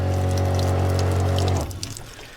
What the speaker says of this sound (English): Now we can turn the water pump on for